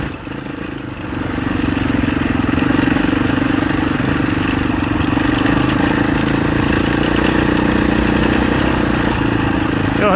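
650 four-stroke enduro dirt bike engine running on a trail ride, a loud, close, steady throbbing drone that swells after the first second and holds nearly constant, with slight changes in revs.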